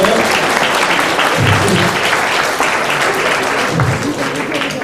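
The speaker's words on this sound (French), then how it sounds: "On peut les applaudir très fort aussi." Lively applause fills a hall as an audience claps for performers at a Téléthon evening show, loud and continuous with a few cheers and voices mixed in.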